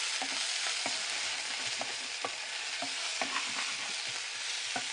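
Garlic frying in sesame oil for an okra gravy, a steady close sizzle with scattered spatters and the scrape of a spoon stirring the pan at irregular intervals.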